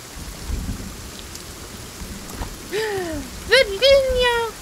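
Rain falling in the survival video game Sons of the Forest makes a steady, soft hiss throughout, with voices talking over it in the second half.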